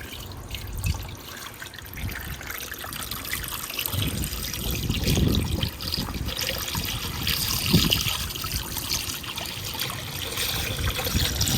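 Water trickling and splashing into a DIY bird bath filled with rocks, a continuous close liquid dribble with a few fuller gushes.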